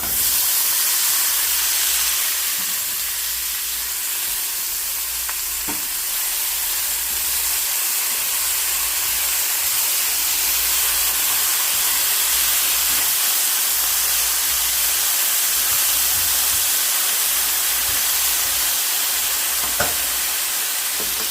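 Zucchini and squash sizzle steadily in a hot skillet with browning bacon on a low burner, a continuous close hiss with faint stirring clicks and no talking.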